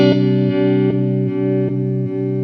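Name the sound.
square wave modulation guitar effect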